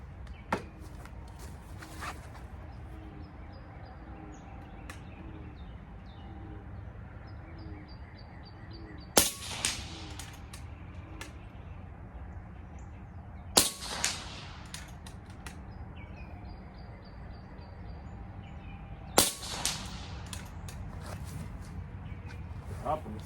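Rifle shots on an NRL22 timed practice stage, a handful of sharp isolated cracks spaced several seconds apart, with someone talking between them and faint birds in the background.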